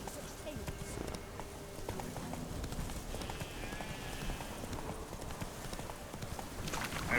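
Hoofbeats of Roach, a horse in The Witcher 3, gallop in a steady clip-clop rhythm at moderate loudness over continuous game ambience and music, with a voice talking over parts of it.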